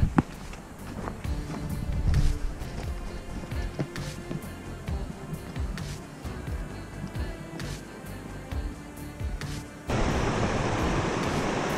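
Water gushing out from an underground cave system in the Yorkshire Dales, a steady close rushing roar with footsteps and rustling over it, swelling louder near the end.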